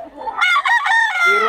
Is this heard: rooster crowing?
yes